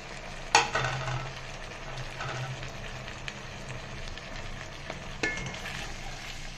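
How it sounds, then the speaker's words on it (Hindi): Mixed vegetables frying in a pan with chili sauce for a vegetable rice dish, a low steady sizzle with a few sharp clatters of stirring near the start and again later, close and moderately quiet. "बस ये थोड़े से इनको फ्राई करके तो चावल इसमें ऐड कर दें"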